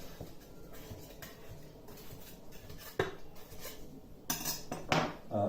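A metal pie knife scrapes quickly around the inside edge of a tin holding a baked banana and vanilla cake, giving close, faint scratching and a few louder metallic scrapes and clinks, with no talking.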